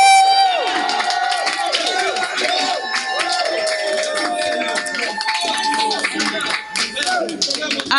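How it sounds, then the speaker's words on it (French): A church congregation at a French prayer service shouts and cheers with joy, a continuous crowd roar with whoops and scattered clapping, loud and close throughout. "Tu peux pousser des cris de joie."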